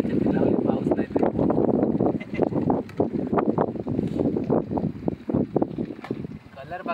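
Steady wind rushes past a waterfall where chicken is being roasted outdoors, a constant loud broadband roar with gusty swells, partly under voices talking throughout.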